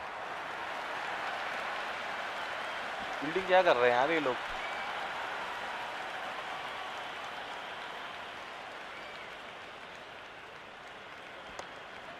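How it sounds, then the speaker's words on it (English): Stadium crowd roar at a Pakistan vs South Africa T20 match in the Cricket 26 video game, a steady broad wash of fans throughout with a short burst of voice partway through. "There's a buzz, a real buzz coming from the stands."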